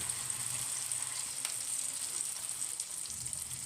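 Eggs frying on a Blackstone griddle give a steady, close bright sizzle with a soft crackle, continuous and even, with no voices.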